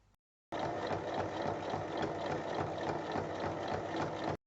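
A sewing machine stitching fabric for a multi-pocket bag, a close, steady rapid mechanical whir that starts abruptly, runs for about four seconds and then stops.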